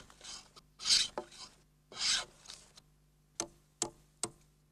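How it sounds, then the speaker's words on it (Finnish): A hand plane is pushed along a wooden log in traditional log-cabin building. Two loud rasping strokes of the blade against the wood are heard, followed by several sharp, distinct taps. "Pienet epätasaisuudet poistetaan viimeistelyssä härkähöylällä."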